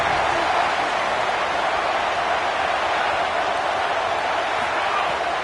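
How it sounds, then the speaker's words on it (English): A steady, dense roar from the stadium crowd cheering on third down in a college football video game, with the Buckeye fans filling the whole stretch at a constant, loud level. "the Buckeye crowd alive on 3rd down"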